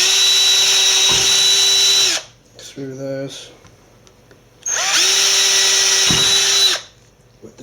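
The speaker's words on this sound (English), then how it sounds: "Right, now with the larger drill bit," A power drill with a larger bit drills through the metal case of a Dell Inspiron One 2320 computer, giving two loud, steady whirring bursts with brief talk in the quiet gap between them.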